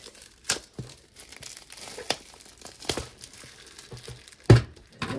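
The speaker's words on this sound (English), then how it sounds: "So let's take off the plastic" Plastic wrap is peeled off a new Baylee Jae sketchbook, giving a run of close crinkling and tearing sounds with sharp rips and softer rustles in between, and one loud crackle near the end.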